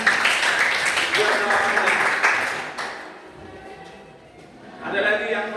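Students in a classroom clapping for a classmate's answer, a lively round of applause for nearly three seconds, then quiet before a teacher's voice resumes.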